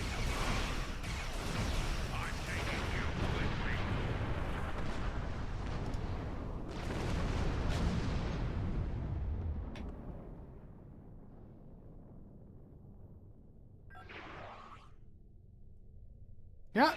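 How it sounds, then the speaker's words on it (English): Dual heavy cannons fire in a space combat video game, a run of loud booming blasts over about ten seconds that fade to a low rumble, with a brief burst and a sharp hit near the end. "the dual heavy cannons,"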